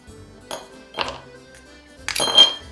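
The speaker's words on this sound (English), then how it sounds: "we're going to fill our glasses with ice" Medium-sized ice cubes dropping into glasses for a Campari Spritz, three or four separate bright clinks spaced about half a second apart, the last ones louder and ringing.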